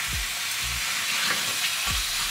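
Food fries in a pan with a continuous loud sizzle, punctuated by a few low thumps or stirring knocks, close by and without talk.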